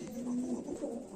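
A pigeon gives a soft, low coo lasting about a second, close and fairly faint over a quiet background.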